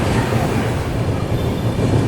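A double-decker express train of Indian Railways runs at speed after leaving Vapi station, a loud continuous rumble and rattle of wheels on track heard from inside, with no talk.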